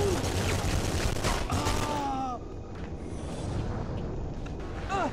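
Gunfire rattles in The Punisher (2004) video game, a dense, loud burst of shots for about two seconds that then fades into quieter combat noise, with game voices calling out.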